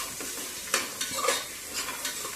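Carrots and other vegetables frying in oil in a pan for pulao, a soft steady sizzle with a few louder scraping stirs, close by and fairly quiet, with no talking.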